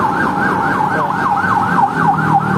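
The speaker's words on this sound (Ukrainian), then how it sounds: "Їхала швидка" An ambulance siren wails on a Bangkok street, its loud, rapidly rising and falling tone repeating steadily and close by, with no voices over it.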